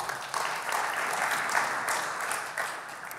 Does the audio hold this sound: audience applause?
yes